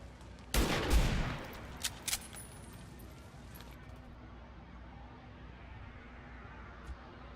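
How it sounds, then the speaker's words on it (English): A loud, sharp gunshot blast from a sniper rifle in XCOM 2, followed by a couple of smaller impact cracks that fade into quiet game ambience. "Maybe now I have a shot with the sniper."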